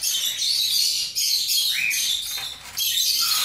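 Pet cockatiels in a cage give a steady run of shrill, overlapping chirps and tweets, near and fairly loud, with brief dips and one rising whistled call in the middle.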